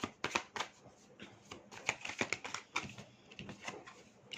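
A tarot card is drawn from the deck with a close, quiet run of soft card flicks and rustles in an irregular rhythm, with no talking.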